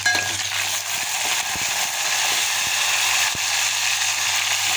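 Steady, loud sizzling of tomatoes frying in a pan over a low flame, a continuous hiss with occasional faint clicks of stirring, up close.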